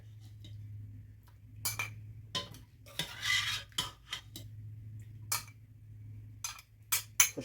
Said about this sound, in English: I'm going to push these down a little bit more and see if I can get some more.